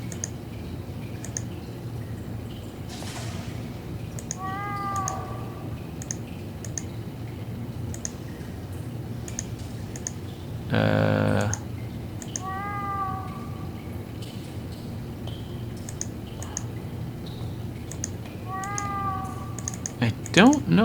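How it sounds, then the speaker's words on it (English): In the video game The Last Door, a cat meows from behind a wall, three short muffled meows spaced several seconds apart, faint amid mouse clicks and a brief thud. "Oh, the cat's behind the wall."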